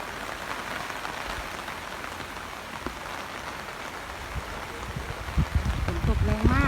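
Heavy rain pours steadily over a rural Thai garden with lemongrass during a storm, a dense continuous hiss that grows slightly louder near the end, where a voice speaks over it.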